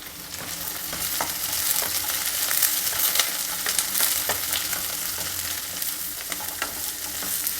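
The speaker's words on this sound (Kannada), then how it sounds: "ಹೈ ಫ್ಲೇಮಲ್ಲೇ ಇದನ್ನೆಲ್ಲ ಹುರಿಬೇಕು ಬೇಗ ತರಕಾರಿಗಳು ಫ್ರೈ ಆಗುತ್ತೆ" Vegetables with long-cut capsicum stir-fry over a high flame in a pan, a loud, continuous sizzle broken by frequent scraping and tossing strokes, close and busy.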